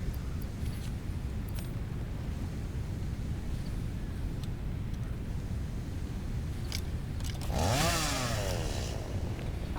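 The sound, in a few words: chainsaw cutting trees in video game Satisfactory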